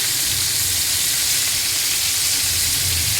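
Chicken pieces fry in hot oil, giving a steady, loud, close sizzle and crackle that runs unbroken throughout with no talking.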